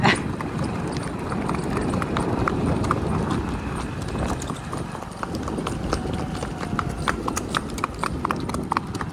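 A mare's hooves clip-clop steadily on hard ground in a fast, even revaal gait, close and continuous, with a faint voice in the background.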